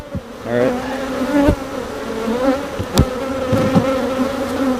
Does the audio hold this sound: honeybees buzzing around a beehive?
yes